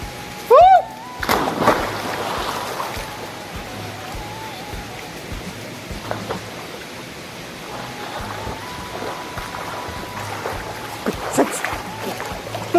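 A person jumps into the cold pool at Penchalakona waterfalls, making one loud, close splash near the start, followed by softer sloshing and the steady rush of falling water.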